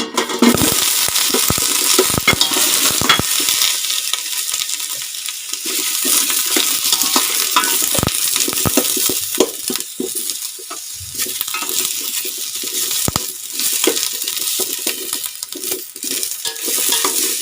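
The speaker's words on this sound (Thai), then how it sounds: "แล้วก็จะเอาหอมหัวใหญ่ลงไปผัดเลยนะคะ" Onion stir-fried in a pan for a Japanese-style pork curry, with a steady hiss of sizzling oil and frequent scraping, clattering stirs of a utensil against the pan throughout, fairly loud and close, no talking.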